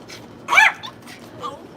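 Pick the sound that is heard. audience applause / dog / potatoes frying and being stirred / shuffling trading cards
dog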